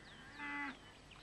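A single cow moos once, a short, low and fairly faint call carrying from a distance over quiet outdoor background.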